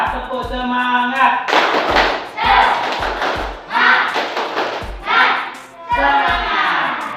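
A primary school class of children performs a rhythmic spirit clap, loud bursts of clapping in a set pattern alternating with short spoken cues and a chanted word between rounds.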